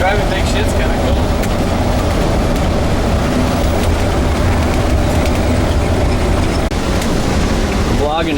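A 40ft Class A diesel pusher RV with a turbo 8.3 Cummins engine rolls down the road, its steady loud engine drone and road rumble filling the cabin without pause.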